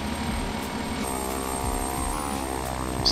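Turboprop engine of a simulated aircraft in Flight Simulator X, a steady, close, humming drone with a constant high whine and a faint propeller throb, heard alone.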